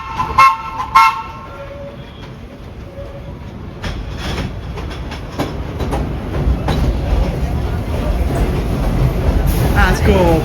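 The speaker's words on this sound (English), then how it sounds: "Here he comes, the BMT Standards." Vintage BMT Standard subway train running from Kings Highway to Brighton Beach, opening with sharp horn toots, then a rumble that swells as the cars roll closer, with people talking over it.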